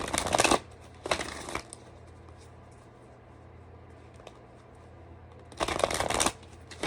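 A tarot deck is shuffled in three quick, close bursts of riffling card noise, with quiet pauses between them.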